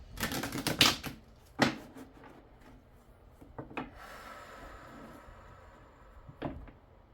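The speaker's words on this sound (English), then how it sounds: "While I shuffle these cards, I'm going to take some breaths and think about my intentions" A deck of tarot cards being shuffled close up, several quick riffling bursts and softer sliding rubs separated by short pauses, quiet and without talk.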